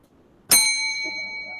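A single ring of a debate timing bell: one sharp metallic strike that leaves a clear, bright tone ringing on and slowly fading in a quiet room.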